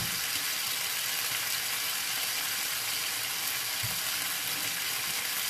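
Chicken pieces fry in a pan with a steady, dense sizzle that stays loud and even throughout, with no talking.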